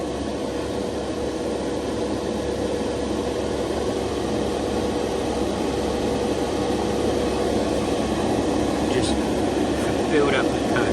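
An airbrush sprays primer onto a Tamiya Yamaha YZF-R1 model motorcycle kit, giving a steady, close hiss of compressed air that continues unbroken, with a few faint clicks toward the end.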